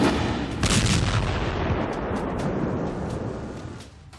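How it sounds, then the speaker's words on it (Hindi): A large test blast during Chinese military trials sends out a heavy, booming roar. The rumble fills the whole moment and then fades slowly as a long, rolling echo, with sharp cracks scattered through the tail. "2、1、起爆！"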